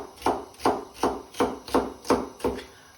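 Knife diced through vegetables on a chopping board for Singapore fried rice, seven evenly spaced sharp chops landing about every third of a second, close and clear with no talk.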